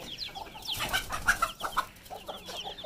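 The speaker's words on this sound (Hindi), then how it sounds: "मुर्गा मस्ती कर रहे," Roosters and chickens cluck and call in a farmyard alongside young chicks and goat kids, a busy stretch of overlapping bird calls that rise and fall close by, with no talking.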